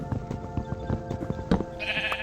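Sheep bleats from the video game Minecraft, old classic version, sounding in short repeated bursts over a busy game background, with a brighter tone rising near the end.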